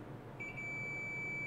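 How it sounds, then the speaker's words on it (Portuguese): A multimeter on continuity mode gives a steady high electronic beep as its probes bridge resistors on an LG Dual Inverter air conditioner circuit board, starting abruptly after a brief quiet moment and holding tone. "Vai bipar de um resistor para o outro."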